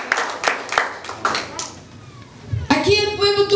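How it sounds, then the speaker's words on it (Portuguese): A church congregation claps in praise of the Lord, a run of sharp hand claps that fades out before a voice starts speaking. "Vamos dar um salve de palmas para o Senhor."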